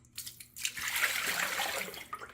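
Water runs and splashes into the plastic dirty-water tank of an OSOTEK HotWave mop vacuum as it is rinsed, a steady close gush with brief sloshes at the start and end.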